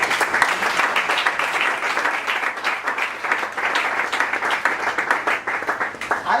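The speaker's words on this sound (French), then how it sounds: "Acclamons très fort pour mon frère." Loud, sustained applause and clapping from a crowd welcoming a brother at a family gathering, steady dense claps throughout with little else.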